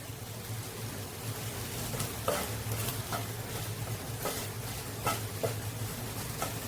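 Okra and potato masala is stirred in a pan, with repeated scraping strokes over a continuous low sizzle, close and fairly even.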